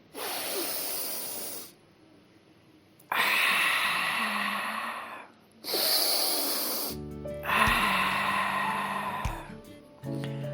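Deep, slow breathing during a guided meditation: four long airy breaths separated by short pauses, close and clear, with no talk.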